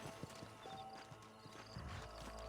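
Horses clip-clop in the Red Dead Redemption video game, a faint patter of hooves with a brief whinny, heard quietly against low game ambience.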